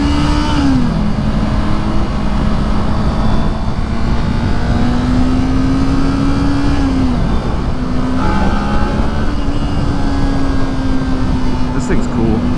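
A 2023 Kawasaki Ninja 400 twin-cylinder motorcycle hums steadily while riding, its engine pitch rising and dipping with a few gear shifts, set under constant wind rush at close range.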